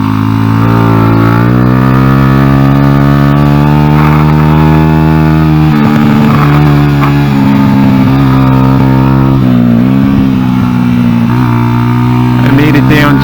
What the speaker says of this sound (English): I made a downshift there